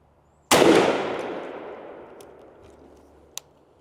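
One loud close shotgun blast from a turkey gun firing TSS number 7 shot through a Carlson 565 choke, a sharp crack with a long rolling echo fading outdoors, followed by a faint click.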